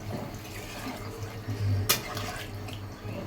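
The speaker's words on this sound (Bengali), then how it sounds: "এবার জল, একটু গরম জল দিলে ভালো হতো" Hot water splashes faintly into a pot of katla fish curry with potatoes, tomatoes and coriander, a soft low pour with one sharp clink partway through.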